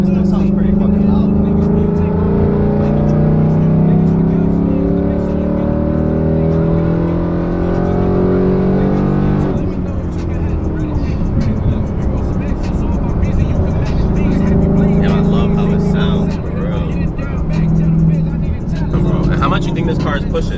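A Gen 3 Coyote Mustang with a VMP tune and aftermarket exhaust drones loudly from inside the cabin while driving, the engine note rising and settling through shifts, with occasional speech over it.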